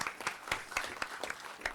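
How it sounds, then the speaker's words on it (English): Applause from an audience at a city council meeting, a short burst of dense, continuous clapping at moderate level with no talk over it. "maybe we'll have a round of applause for you now"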